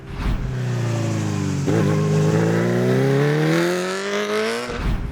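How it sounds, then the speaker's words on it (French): A Bimota Tesi H2 supercharged motorcycle accelerates hard on the road, its engine note climbing steadily in one loud, continuous rising howl that ends abruptly. "L'à-coup à l'injection à la reprise des gaz, mais ça fait avancer la moto d'1 mètre à chaque fois qu'on essaie d'accélérer"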